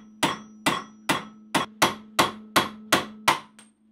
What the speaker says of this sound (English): Then, using a longer punch, knock the pin out completely.